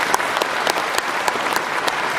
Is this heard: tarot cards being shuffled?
no